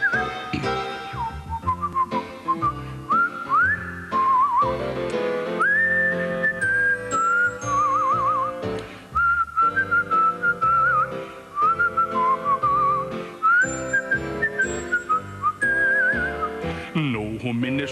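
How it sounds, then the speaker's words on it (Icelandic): Someone whistles a flowing Christmas melody over instrumental backing, with the clear, sustained tune carried across the whole passage on a 2005 Icelandic Christmas television programme. "Og nú þarf að flauta."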